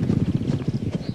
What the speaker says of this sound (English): Out on the gallops, the Queen has a chance to see her horses working